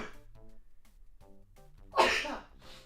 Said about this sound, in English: oh, I'm sneezing